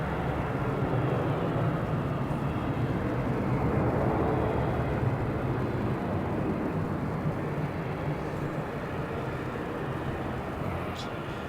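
A jet taking off at night from runway 34 at Melbourne Airport, a loud, broad engine roar that swells and then holds steady from a distance, with people talking quietly over it.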